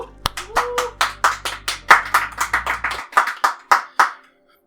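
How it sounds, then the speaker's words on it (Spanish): Sparse, evenly spaced handclaps from a small group at the opening of a Spanish-language podcast episode, about fifteen sharp claps over four seconds that thin out and stop, with a low hum cutting off partway through. "Un aplauso."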